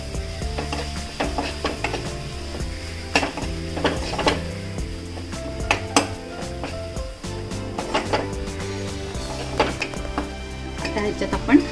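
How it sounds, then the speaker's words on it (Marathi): Vegetables with asafoetida stirred in a pan, a spoon scraping and knocking against the pan in close, uneven strokes under a light sizzle, with music playing throughout. "हिंग घालून आपण सगळं मिक्स करून घेऊया"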